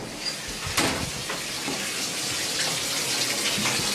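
Water runs steadily from a shower, a continuous broadband hiss of spray with a few brief splashy bursts, fairly close and alone.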